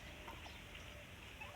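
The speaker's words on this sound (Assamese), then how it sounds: "আৰু ইয়াত আছে টাৰ্কি" Turkeys gobbling faintly in a poultry yard alongside silkie chickens, a soft fowl call over low steady background noise with no talking.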